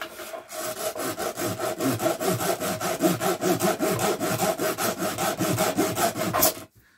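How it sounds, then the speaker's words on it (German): A handsaw cuts through wood in steady back-and-forth strokes, loud and close, running continuously for several seconds before stopping abruptly near the end. "dann fangen wir jetzt uns an zu sägen"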